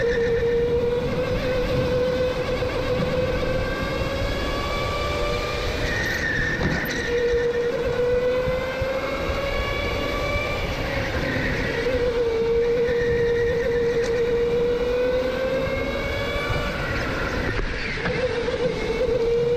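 Go-kart engine screaming through a hot lap in a K1 GP race, a steady high-pitched drone rising and falling with throttle and gear changes, close and loud throughout with no talking.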